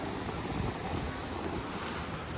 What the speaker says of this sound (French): Il y a un peu de vent, mais